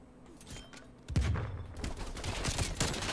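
An AK-47 fires in a Call of Duty match. After a quiet moment, a sharp burst breaks out and continues as a dense run of rapid shots with crackling echo. It is loud and close, and no one speaks.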